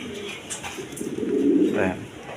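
Large crested pigeons coo nearby, a few soft throaty rolling calls rising in the middle, with faint voices in the background.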